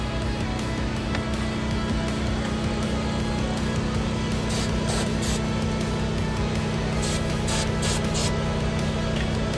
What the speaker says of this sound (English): We're gonna spray some starter fluid on it and see if we can get it to at least do something.